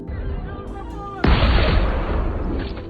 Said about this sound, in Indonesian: mereka langsung ditembak oleh si sniper tersebut